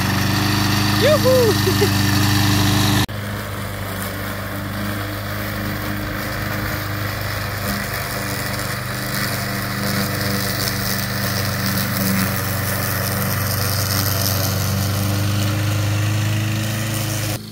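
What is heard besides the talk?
brush cutter mower engine running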